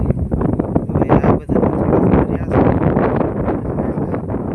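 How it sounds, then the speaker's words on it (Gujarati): Gusting wind with the first rain sweeping across an open cotton field, a loud, continuous rushing roar that buffets the microphone throughout, briefly dipping before surging again. "પવન ને વરસાદ શરૂ થઈ ગયો છે"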